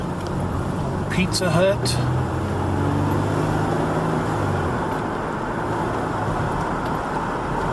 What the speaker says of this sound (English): Stuck in traffic, lovely.